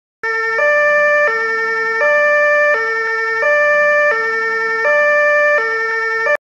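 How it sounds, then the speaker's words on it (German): A police car siren in a children's video game: a loud, steady electronic two-tone wail alternating evenly between a lower and a higher pitch, repeating without pause and heard alone with no other sounds. "So hört sich die Polizei an, wenn sie es eilig hat."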